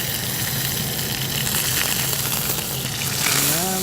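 Tuna, swordfish or shark steaks sear loudly in a hot pan, a dense continuous sizzle and crackle that holds steady throughout with a faint hum underneath.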